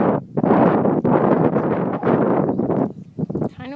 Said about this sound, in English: Kind of windy today, so it may make the bees a little nervous.